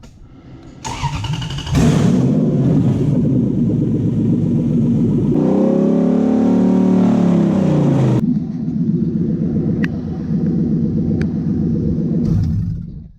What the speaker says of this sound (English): For the first time, it's been warmed up properly, and the idles come down really nicely.